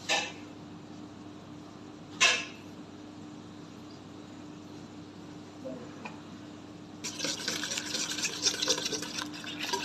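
Spice masala of chaat masala and lemon juice being mixed for fried chicken: soft, brief scraping stirs, then a steadier rougher rubbing scrape toward the end, close and fairly quiet.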